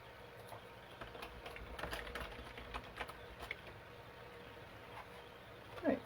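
Quick, light keystrokes tap across a computer keyboard in close, quiet bursts, a run of scattered clicks over a faint background hum.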